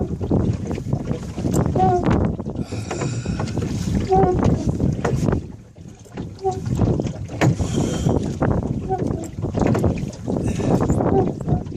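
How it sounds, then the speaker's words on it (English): Strong wind buffets the microphone while a rowboat is rowed at sea off Waterville, County Kerry, with steady rushing gusts, creaking oar strokes and water sloshing close by; someone talks over it at times. "The wind's getting stronger and stronger."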